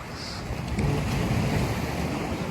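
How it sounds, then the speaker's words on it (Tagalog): Rushing ocean waves with wind buffeting the microphone, a continuous close-up wash of big surf noise off Diversion Road, Iligan City. "Malalaki yung alon ngayon"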